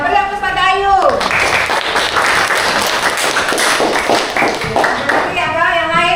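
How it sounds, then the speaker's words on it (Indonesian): A classroom audience claps for a student at a vocational school, a dense burst of applause lasting several seconds, loud and close, with talking heard just before and after it. "beri aplaus pada Ayu"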